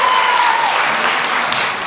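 Parents at a raucous Keller ISD school district meeting about books burst into loud cheering and applause, a dense roar of many hands and voices at close range throughout.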